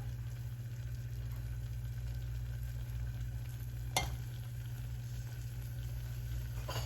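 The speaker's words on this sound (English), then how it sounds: "Now I'm going to add in my cooked pasta." Cooked pasta stirred into a sauce in a hot pan gives a steady, close sizzle with a low hum underneath and a single sharp clink of a utensil near the middle.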